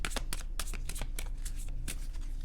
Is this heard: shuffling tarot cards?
yes